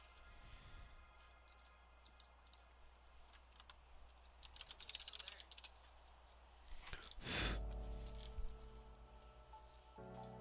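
Soft keyboard typing at a computer, a quiet patter of key presses in short bursts, faint and close, with a louder thump partway through and no talk.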